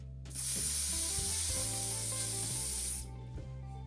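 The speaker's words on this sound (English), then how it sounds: "give a good spray" Cheap hairspray sprays onto a model tree for a narrow gauge railway layout, one continuous close hiss lasting about three seconds, with a low background hum underneath.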